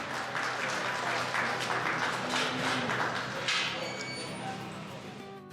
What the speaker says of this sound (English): Give these guys all a nice round of applause.